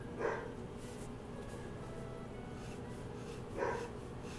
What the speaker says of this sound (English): my dog just is barking at something.